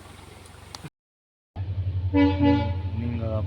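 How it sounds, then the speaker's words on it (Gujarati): A train arrives with a loud, sustained horn blast over a low rumble, following a short moment of silence. "જોઈ લે ટ્રેન આવી ગઈ ભાઈ."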